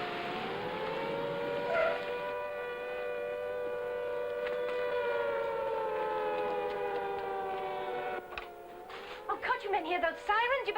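A wartime air-raid siren wails steadily, warning of buzz bombs, a loud sustained rising-and-holding tone that dips and wavers near the end as other noises break in.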